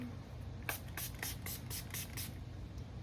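Seven quick, soft hissing bursts of a setting-spray bottle misting onto a face in a steady rhythm, close and quiet.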